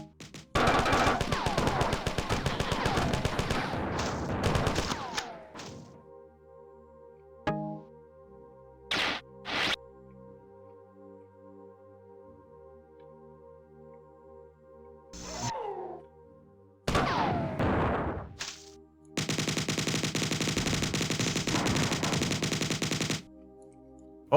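Gunfire from the 1994 video game Marathon comes in loud rapid bursts of machine-gun fire, broken by single isolated shots and short silences, then a long sustained volley near the end.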